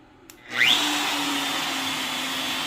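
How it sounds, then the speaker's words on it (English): X-Carve CNC router spindle and dust vacuum starting up together, a loud whining roar that climbs quickly from quiet and then holds steady and close. "once you get this vacuum going with the spindle, it's almost like standing beside a jet plane"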